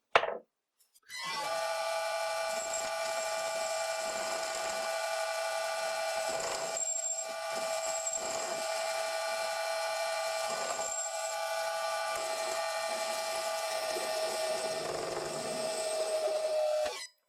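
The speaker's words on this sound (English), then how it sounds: "Now I'm going to turn this down to 8mm so it will fit inside the nylon piece and help line up things correctly." A metal lathe turns a workpiece down to 8mm with an HSS tool bit, giving a steady whining hum with high tonal ringing and scraping cutting noise, close and continuous after a brief start.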